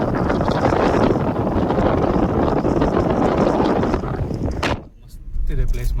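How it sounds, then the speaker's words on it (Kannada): Strong wind gusting across an open hilltop at Devaramane, Chikkamagaluru, roaring loud and steady against the microphone for about five seconds, then briefly dropping away before surging back. "ಆಚೆ ಗಾಳಿ, ಆಚೆ ಕ್ಯಾಮ್ರಾ ಹಿಡಿಯೋಕ್ಕಾಗ್ತಿಲ್ಲ,"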